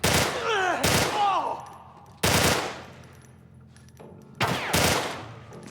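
Weapon fire in The Last of Us Part 1 on PS5 comes as loud, close bursts of rapid shots separated by short pauses, with no talking over them.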